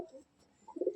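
A single pigeon coos in a loft, a short low throaty call rising near the end of a brief, otherwise quiet moment.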